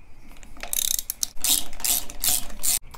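A hand ratchet clicks rapidly and close up while threading a bolt into a Subaru timing belt pulley, with a steady run of metallic pawl ticks in short bursts.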